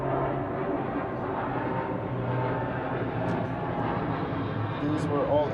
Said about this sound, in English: Planes overhead are flying into the Burbank airport.